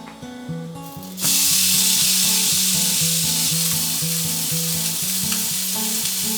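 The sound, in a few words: steak searing in a smoking-hot cast iron pan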